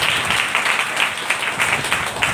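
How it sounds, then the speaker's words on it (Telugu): A church congregation claps hands together in a steady, rhythmic beat, a broad crowd sound that carries on throughout without any voices over it. "చప్పట్లు కొట్టండి ఒకసారి."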